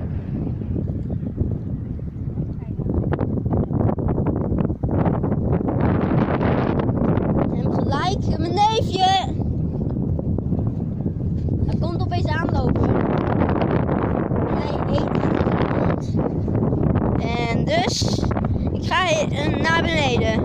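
Strong wind buffets the microphone on a beach during an outing to collect oysters and sea snails, a constant loud roar under frequent talking throughout.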